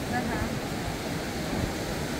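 Sea waves wash onto a beach in a steady broadband rush, soft and fairly distant, with some wind noise mixed in.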